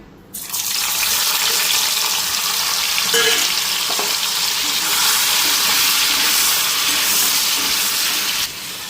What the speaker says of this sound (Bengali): পনিরটা হালকা ফ্রাই করে নিই